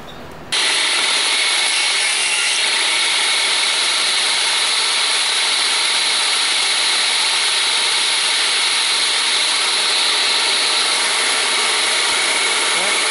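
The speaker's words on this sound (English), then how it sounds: "I'm going to have to do it horizontal and then finish it up with a dovetail saw" A dovetail saw cuts through a wooden six-light window sash held horizontally, producing fast, rasping strokes that run continuously and close for over twelve seconds.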